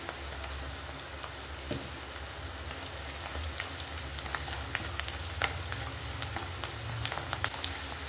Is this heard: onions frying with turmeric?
yes